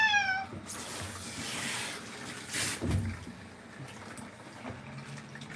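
A Siberian cat meows a few times at close range, with short rising-and-falling calls over muffled household rustling and a brief splashy noise midway.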